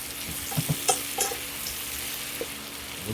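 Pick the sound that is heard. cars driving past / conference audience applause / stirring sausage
stirring sausage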